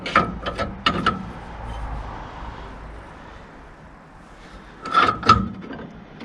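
A ratchet wrench bolts the side of a DAF LF tilt-and-slide recovery body in a workshop, with quick bursts of clicking at the start and again near the end and a quiet hum in between.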